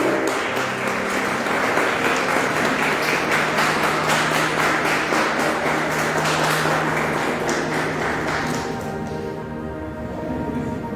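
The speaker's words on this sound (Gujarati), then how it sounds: "આપણે તાળીઓના ગડગડાટથી એમને વધાવી લઈએ." An audience at the UJAS Magazine Award 2022 ceremony breaks into dense, sustained applause, loud and steady for several seconds before thinning slightly near the end.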